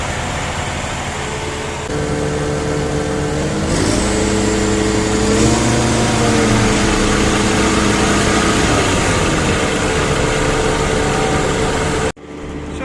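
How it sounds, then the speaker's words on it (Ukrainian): A John Deere 952 forage harvester engine runs steadily, then its pitch rises as the throttle opens and the chopper clutch engages, droning loud and close before cutting off abruptly near the end. "Зараз даєш газу і муфта включається січкарня."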